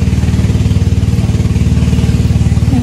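A motorcycle engine runs steadily and loud near a riverside path leading to the sea, its low pulsing drone constant throughout with a slight rise at the end.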